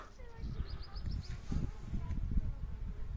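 Osmia cornuta mason bees buzz in flight around their nesting spot in spring, a light, fluttering drone that rises and fades as individual bees pass close, over a steady low outdoor rumble.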